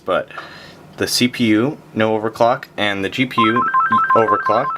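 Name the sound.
phone ringing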